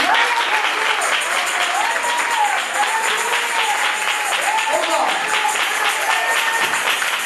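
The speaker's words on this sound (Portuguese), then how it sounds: "Eu quero que você bata a palma para Jesus." A church congregation claps for Jesus in loud, sustained, dense applause that fills the whole stretch, with a voice faintly audible underneath.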